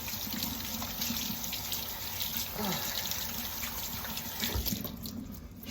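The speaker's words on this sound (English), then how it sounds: "Gotta wash your hands when you're done with the octopus skin goobers." Hands are washed under a running kitchen tap after handling octopus, a continuous close stream of water splashing into the sink with small shifts in the flow throughout.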